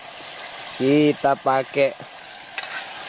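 Food fries in a cooking pot used in place of a wok at a forest campsite, with a soft sizzle and a scrape of stirring under a man's clear speech.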